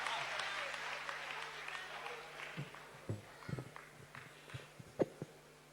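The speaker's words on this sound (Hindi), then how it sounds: "जोरदार तालियां बजाइए महेंद्र अजनबी जी के लिए" An audience at a Hindi comic poetry gathering in Lucknow applauds the poet, a wash of clapping that thins out after a couple of seconds into scattered isolated claps and thumps, fairly faint overall.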